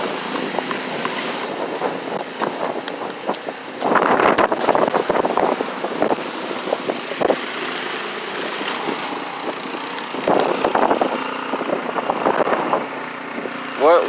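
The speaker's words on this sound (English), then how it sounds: "Not only is it cold, but it's windy" Gusty wind buffets the microphone outdoors at a Boston city intersection on a cold day, a steady roar with stronger rumbling bursts around four and ten seconds, mixed with faint traffic.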